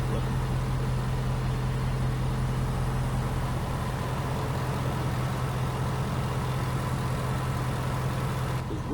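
A freshly rebuilt V8 engine idles steadily after its cooling and power steering systems have been bled, a continuous even rumble with a low hum held at constant loudness throughout.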